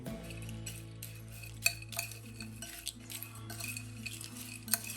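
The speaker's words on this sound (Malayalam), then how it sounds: "ഇനി ഇതെല്ലാം കൂടി ഒന്ന് മിക്സ് ആക്കി എടുക്കാം" A spoon stirs a chicken mixture snack seasoned with lemon juice, salt and chili powder in a metal bowl, giving soft scraping and light clinks with a few sharper taps, quiet and close over a low steady hum.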